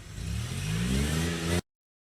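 A 1969 Ford Mustang with dual exhaust revs, its engine note climbing loud and close for about a second and a half before it cuts off abruptly.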